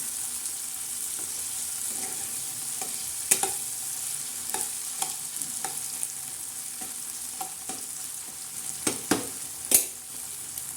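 Potato, tomato and onion are stirred in a kadai with a steady, faint sizzle of frying underneath and repeated sharp scrapes and clinks of the spoon against the pan, all without voices.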